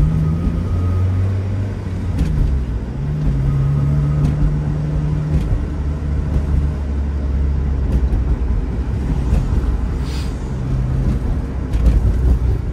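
A Mazda Miata NA sports car engine drones steadily at close range, heard from inside with the windows closed, with low rumbling tones shifting as it drives, continuous throughout with no talking.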